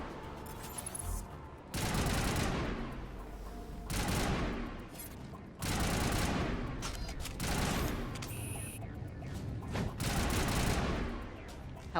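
Heavy bursts of gunfire in the video game Mass Effect, several loud volleys with brief gaps between them, and a voice speaks faintly beneath.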